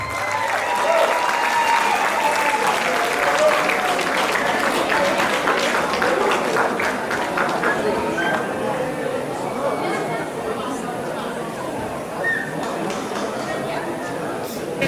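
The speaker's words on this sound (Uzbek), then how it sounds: "Davomli qarsaklar" Long sustained applause from a large audience at a concert evening with a military orchestra, dense clapping that stays loud for the whole stretch and tapers slightly toward the end, with crowd murmur mixed in.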